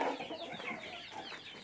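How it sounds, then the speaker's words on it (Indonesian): Bangkok chickens on a chicken farm cluck and murmur in a busy, continuous chorus, fairly faint and somewhat distant, with no talking. "Keren semuanya nih ayam Bangkok semua"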